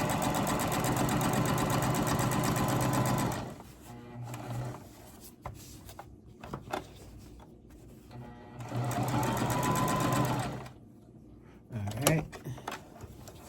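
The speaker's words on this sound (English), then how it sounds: "you're going to change your machine. You want a longer stitch, and we want to go across the top of the shoulder here." A sewing machine runs a longer stitch across the top of a garment shoulder in two steady, loud stretches, with quieter fabric handling and a voice speaking between them.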